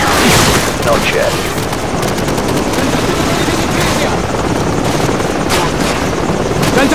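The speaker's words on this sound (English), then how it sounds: "Helicopter troops closing in fast." In Call of Duty 4, a helicopter carrying troops approaches amid a loud, dense battle din, with constant rotor and engine roar and bursts of gunfire throughout.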